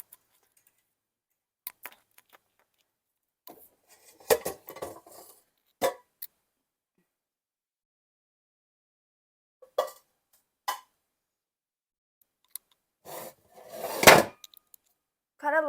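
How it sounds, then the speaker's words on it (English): A small stock pot clanks and knocks as it is handled and set down on a stovetop, with sparse metallic taps and one louder bang near the end, in an otherwise quiet kitchen. "I will be getting a pot. And putting it on my stovetop."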